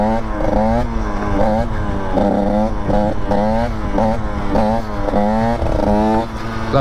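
A KTM 85 dirt bike revs hard in repeated rising bursts for a wheelie, the engine pitch climbing and dropping in a loud, close, rhythmic pattern.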